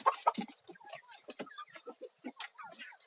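Several chickens cluck and chatter nearby in quick, irregular bursts.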